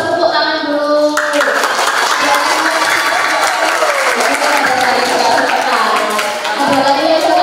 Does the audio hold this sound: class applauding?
yes